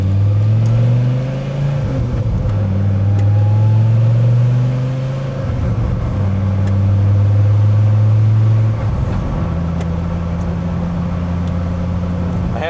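A third-generation Dodge Viper V10 revs loud and close, its deep engine note stepping up and down through several pulls with brief dips between them.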